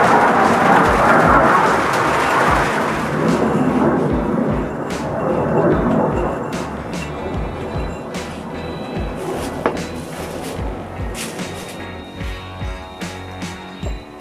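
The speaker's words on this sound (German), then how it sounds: "Ich hoffe, der Regen stört euch genauso wie mich." Heavy rain pours outdoors during the restoration of an old kerosene lamp, a dense loud wash easing off over time, with sharp clattering knocks and drips scattered throughout.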